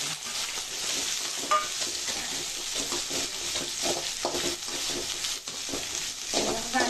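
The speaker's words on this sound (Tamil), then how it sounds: "இப்போ பாருங்கள் நல்லா வெங்காயம் ரெண்டு வதங்கிடுச்சு" Onions fry in a pan alongside garlic, giving a steady crackling sizzle with occasional stirring scrapes throughout, fairly close and continuous.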